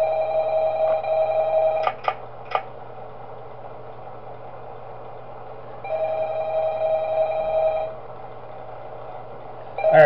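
Telephone ringing inside the Shadow Chaos Pizzeria horror video game, a steady electronic tone that sounds in two long bursts with short clicks between them, heard alone with no talking.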